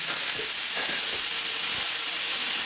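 A burger patty sizzles in a hot pan while being flipped, a constant loud frying hiss with a few faint clicks and no voices.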